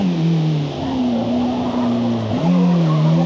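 A stock race car laps a track in the Forza Motorsport video game, its engine droning in a sustained tone that rises and falls with shifts and a dip, mixed with tire squeal, loud and close throughout.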